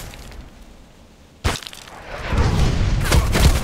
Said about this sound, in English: So normally, a mortar strike you survive